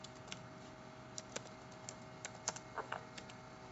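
Light, rapid tapping of keys on a computer keyboard, quiet and close, with irregular clicks over a steady background hum while a campaign name is typed.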